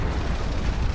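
Enemy weapon fire strikes in the armored vehicle game Armored Warfare, a dense, continuous roar of blasts and rumbling impacts that fills the whole moment loudly with no pauses.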